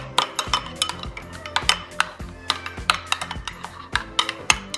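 A utensil mixes mayonnaise and honey mustard in a bowl, making a steady run of close, bright clinks and scrapes against the bowl with no voices.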